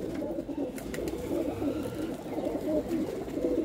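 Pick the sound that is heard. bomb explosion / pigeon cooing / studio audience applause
pigeon cooing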